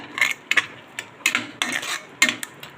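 A spoon scrapes and clinks against a pan while red chilli garlic chutney roasts, in short, irregular metallic strokes with a faint sizzle beneath and no voices.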